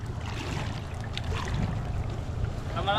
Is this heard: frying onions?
no